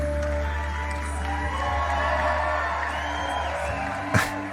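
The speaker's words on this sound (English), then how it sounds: "The audience is cheering." An audience at a comedy show cheering and whooping, a broad crowd roar over a low steady hum with a sharp brief outburst near the end.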